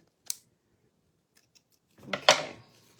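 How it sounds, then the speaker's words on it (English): Dull scissors cut card stock during a bookmark craft, making one sharp snip and then, after a quiet gap, a longer rough cut that crunches. "my scissors are very dull"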